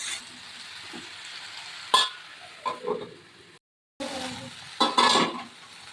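Vegetables for Bengali sukto are stirred in a pot, with soft scraping, gentle sizzling and a few clinks of the spoon against the metal, close and fairly quiet, with one brief silent gap.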